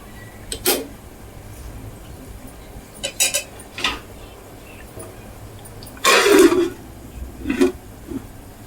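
Metal plate used as a lid clatters onto a cooking pot of chicken tahari biryani, with a few light clinks, then one louder clattering knock, and a couple of softer taps, close and in a quiet kitchen.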